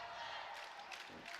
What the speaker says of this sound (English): Now the Bayport fans starting to get in with a let's go Devlin chant